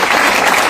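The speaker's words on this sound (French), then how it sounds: "Continuons à acclamer." Crowd applause at a papal visit to a home for the elderly in Bujumbura, a steady dense wash of clapping filling the short moment with no voices rising above it.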